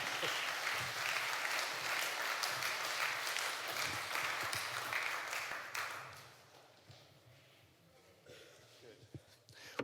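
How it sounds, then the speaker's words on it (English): An audience at a conference session on biodiversity, wildlife management and cultural heritage claps in sustained applause for about six seconds before it fades to scattered claps and quiet room noise. "And can I have a ripple of applause?"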